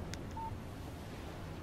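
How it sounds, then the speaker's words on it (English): Short electronic text message alert from a phone in the Alan Wake video game, a single brief beep tone heard over low steady background noise. "Text message from Barry."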